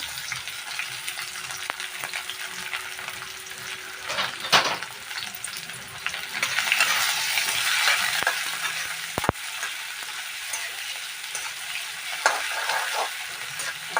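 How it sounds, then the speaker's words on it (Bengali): Garlic, potatoes and chopped onions fry in a pan with a steady close sizzle, broken by occasional clinks and scrapes of a spatula stirring, and the frying swells somewhat midway. "রসুন আলু পেঁয়াজ একসঙ্গে ভাজা হয়ে গেছে"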